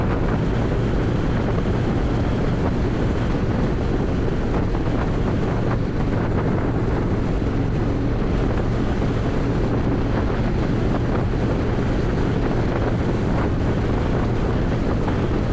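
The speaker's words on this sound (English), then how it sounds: "It is windy though." Strong wind buffets the microphone in a constant loud roar while a vehicle drives through a storm, with no gaps and no voices.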